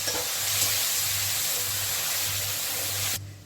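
Spice paste and turmeric sizzle steadily in hot oil, a loud, continuous hiss close by, with a low hum underneath, cutting off abruptly near the end.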